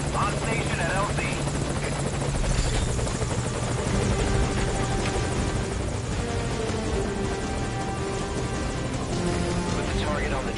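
Helicopter in the Metal Gear Solid V video game, its steady rotor and engine drone running loud and continuous throughout while voices talk over it.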